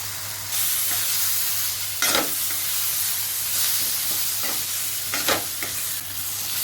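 Pineapple sheera stirred in a hot pan: a continuous soft sizzle broken by several distinct scraping strokes of a spoon.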